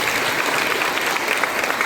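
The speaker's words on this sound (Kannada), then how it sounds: "ಒಂದ್ಸಲಿ ಮಕ್ಕಳಿಗೆ ಜೋರಾಗಿ ಚಪ್ಪಾಳೆ ಹೊಡಿಲೇಬೇಕು" Dense crowd applause for a children's dance performance at a wildlife conservation campaign event, loud and continuous for the whole moment.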